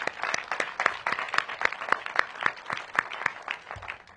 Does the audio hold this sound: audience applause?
yes